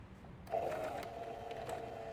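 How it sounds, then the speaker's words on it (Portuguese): A sewing machine topstitching a trouser pocket lining starts up with a click and runs a short, steady, fairly quiet whirring stitch close by. "agora eu vou fazer um pesponto quase em cima dessa nossa costura"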